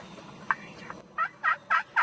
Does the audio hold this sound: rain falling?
no